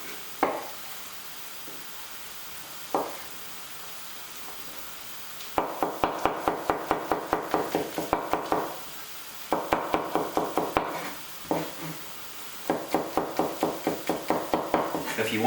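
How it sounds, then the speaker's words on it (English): A knife chops garlic cloves on a cutting board while making butter chicken: three bursts of quick, even, close-up taps separated by short pauses, with no talking. "2 cloves of garlic. Again, just chop them up."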